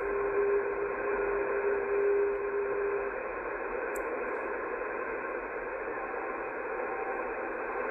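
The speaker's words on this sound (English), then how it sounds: "Yeah, sounds like a radio teletype there," Radio teletype signal on the shortwave band between 11 and 12 MHz, out of Pinneberg, Germany, received on an SDRPlay RSP1A: a weak, steady data tone that persists, buried in continuous hissing static.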